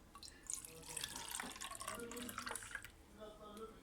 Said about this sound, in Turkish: Şimdi sütümüzü bunun içine döküyoruz.